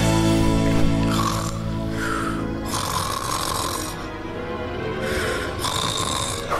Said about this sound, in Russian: Ну а кто еще может храпеть?